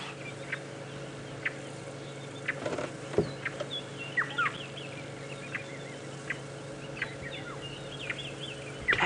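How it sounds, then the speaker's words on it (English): Black-headed orioles and small robins call in a quiet outdoor morning setting, with short whistled and fluting notes scattered irregularly at moderate distance over a faint background hum. "Black-headed orioles calling, a couple of the smaller robins also still chatting away"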